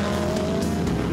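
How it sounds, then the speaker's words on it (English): GT race cars, including a McLaren, roar past in close racing at Brands Hatch during a 2015 Blancpain Sprint Series race, loud continuous engine noise with a hint of tire squeal and no talking. "and Rob Bell had made a good start in the 55 McLaren"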